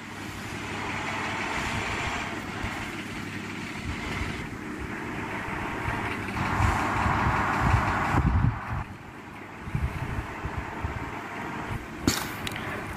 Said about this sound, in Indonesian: Sekarang kita mau coba bawa nanjak bus ini.